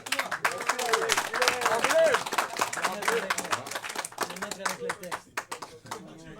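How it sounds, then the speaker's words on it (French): A crowd claps in dense, lively applause while a voice speaks loudly over it, the clapping thinning out toward the end. "Vous allez applaudir très fort encore Alexandre Belliard."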